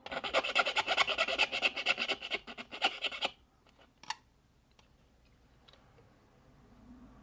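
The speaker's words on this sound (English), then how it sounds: "Then I'll use a little half-round needle file to finish that" A small half-round needle file scrapes a notch during a reversing camera fit on a 1996 V8 Jaguar XK8, with about three seconds of rapid, rhythmic close rasping strokes, then near quiet with a single light knock.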